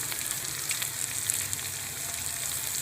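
Spices such as turmeric go into a pan of crab curry, giving a steady, soft sizzle and crackle of frying oil that continues without a break.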